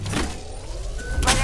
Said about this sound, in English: Recharging my shields.